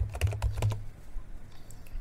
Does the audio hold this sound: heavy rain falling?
no